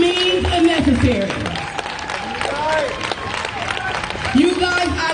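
A protest crowd at a Portland street rally applauds and cheers, a steady wash of clapping and whoops with people talking over it.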